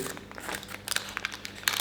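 A chocolate sponge cake log being rolled up in parchment paper gives soft, irregular crinkles and rustles, close by, with a few sharper crackling bursts.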